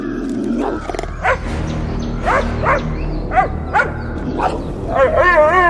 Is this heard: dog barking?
yes